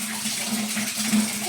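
Clothes being washed by hand in soapy, foamy water, with steady sloshing and splashing close by and a low hum underneath, continuous throughout.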